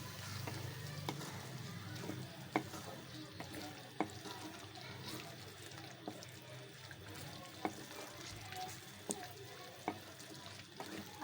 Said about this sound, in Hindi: अब इसको अच्छे तरीके से आपने मिक्स कर लेना है।